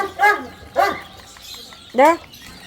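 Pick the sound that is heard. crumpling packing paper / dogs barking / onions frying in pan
dogs barking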